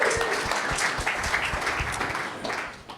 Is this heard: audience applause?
yes